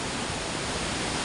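Pondol waterfall after Typhoon Opong, a steady, loud broadband roar of rushing water that fills the whole moment without a break, close by and unchanging.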